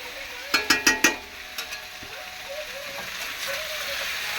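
Meat frying for chili chicken, a soft steady sizzle with several sharp clicks of a utensil against the pan near the start, then a few lighter taps, fairly quiet.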